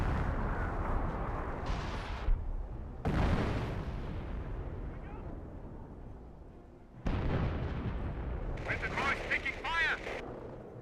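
Heavy artillery explosions in the Company of Heroes video game pound an MG42 position, booming blasts with rumbling tails and cuts between them, followed by scattered gunfire and a voice talking over the action.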